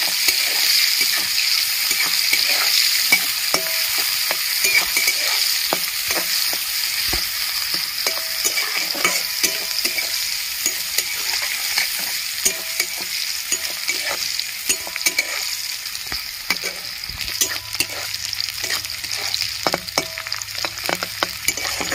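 Chopped onion fries lightly in a pan, giving a continuous close sizzle with frequent small clicks and scrapes from stirring across the whole stretch.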